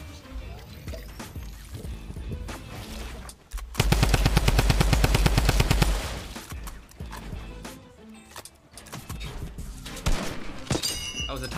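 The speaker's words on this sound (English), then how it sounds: "that was a Tommy gun he hit me with" A Tommy gun fires a rapid, loud automatic burst of about two seconds in the video game Fortnite, amid other game sounds and faint talk.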